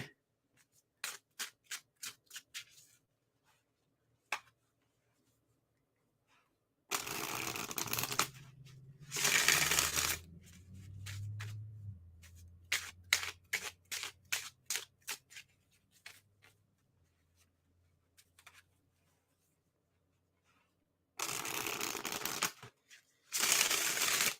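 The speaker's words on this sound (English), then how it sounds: "I think I've shuffled enough." Tarot cards being shuffled by hand: sharp, rapid clicks and riffles come in several bursts, with longer dense rustling passages between quiet gaps, close and fairly soft.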